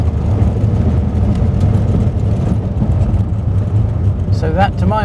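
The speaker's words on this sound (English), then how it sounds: "So I'll go from second to third and floor it." A car accelerates hard at full throttle with a clutch set up so it does not slip, engine droning steadily with a second-to-third gear change. Faint chirps are audible near the end.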